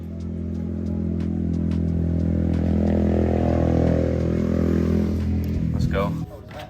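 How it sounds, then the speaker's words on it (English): A Honda CBR250 motorcycle engine rising in pitch as it passes close by, loud and steady for several seconds, then cutting off abruptly. "What was that? That's a Honda CBR250."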